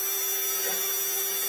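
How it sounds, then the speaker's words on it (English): A drill bit grinding against a plastic gas tank that had held water at a sawmill, a brief, fairly faint steady whine with no voices. "My drill bit won't even go through plastic."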